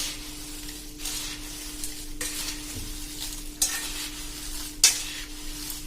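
Gujarati chevdo being stirred as spice mix is added, a recurring rustling scrape of the mixture tossed in a pan, in several distinct pushes over a low steady hum.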